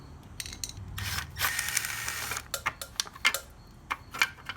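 A Phillips screwdriver backs out two small bolts holding a plate on the carburetor of a 1980 Suzuki FZ50 moped, giving close, quiet ratcheting clicks and metallic ticks with no talking.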